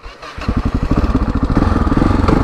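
A Yamaha XT660Z Tenere single-cylinder motorcycle engine chugs loudly and close while riding in cold high country, its rapid rhythmic thumping pulses continuing steadily throughout.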